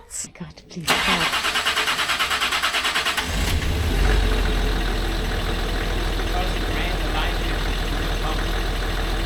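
A Land Rover diesel engine cranks over a few rhythmic turns, catches and settles into a loud, steady idle during a roadside repair in the Alps, with people talking nearby.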